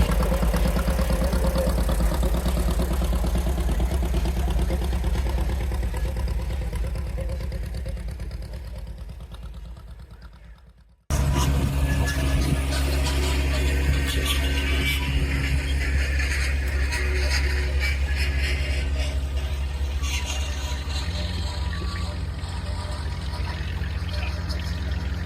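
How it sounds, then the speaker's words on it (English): A 1936 unstyled Allis Chalmers WD45 antique tractor with a 4-cylinder vertical engine runs at a spring gas-up tractor pull, a steady loud chugging drone that cuts out abruptly midway and resumes just as loud. "this Allis still supports a 4-cylinder vertical engine"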